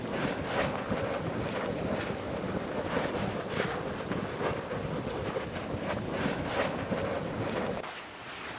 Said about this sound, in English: The place is alive with sound, sloshing and spattering lava, hissing rain, the beating sound of gas bubbles bursting.